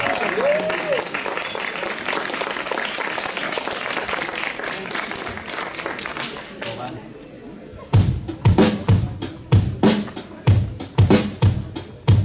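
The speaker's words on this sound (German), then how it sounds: "dann mal noch ein kleiner Applaus für den Schlagzeuger" Concert audience at an outdoor show applauds the band's drummer, a steady wash of clapping and crowd chatter that thins out, then loud drum hits and music kick in near the end.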